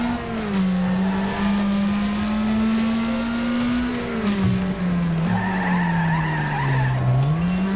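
A race car in the Wreckfest video game skids with a steady, loud, droning tire squeal and engine tone, rising and falling in pitch over several seconds, with no talking.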